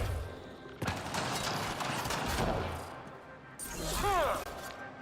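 Bursts of gunfire and impacts in a firefight in Mass Effect: Andromeda, dense, jumbled and mid-distance, with a warbling sci-fi sweep near the end and talk underneath.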